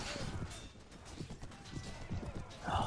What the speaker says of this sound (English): Taking the horse.